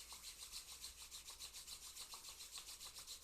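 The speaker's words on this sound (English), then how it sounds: "Let's rub the palms together." Palms rubbed together during a yoga healing practice, a soft, steady rhythmic swishing of skin on skin repeating several times a second, close and very quiet with no voices.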